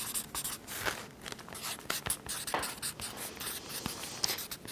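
Pen or pencil scratching across paper while a checklist is filled in during a school locker clean-out, a steady stream of close, quiet scribbling strokes with no talking.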